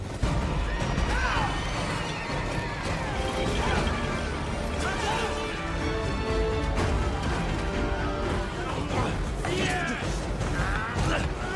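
Horses neigh and whinny repeatedly amid a clashing battle scene in a historical war film, with hooves, crashes and creaking under the calls and a narrator speaking over the uproar.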